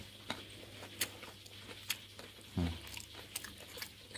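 Crispy fried lumek fish being bitten and chewed up close, with several sharp crunches spread out over a few seconds in a quiet room.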